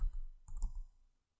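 Short burst of computer keyboard typing, a few close, distinct key clicks clustered in about a second before silence.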